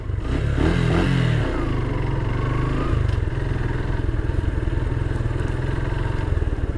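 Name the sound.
motorcycle engine running after clutch start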